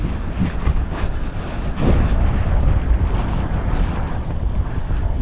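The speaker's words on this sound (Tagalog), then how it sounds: "Medyo mahangin-hangin mga amigo" Strong wind gusts buffet a boat running at sea through open water, a steady roaring rush with heavier blasts around the midpoint and no voices.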